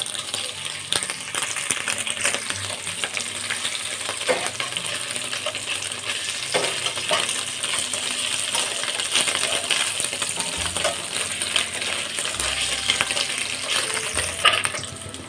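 Paneer pieces lightly frying in a tablespoon of ghee for a vegetable biryani make a steady close sizzle, punctuated by repeated metallic clinks and scrapes of stirring throughout, with no one speaking.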